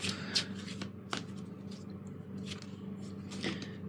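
A deck of tarot cards is shuffled up close, with soft riffling and sliding flicks continuing steadily over a low background hum.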